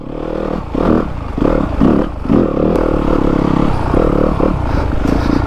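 A dirt bike, either a Yamaha YZ250FX four-stroke or a KTM 300XC two-stroke, ridden off-road over boulders, its engine revving and surging in repeated bursts close by, with clattering and scraping of rocks throughout.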